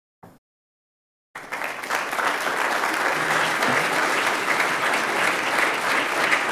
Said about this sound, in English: please refrain from clapping after each speaker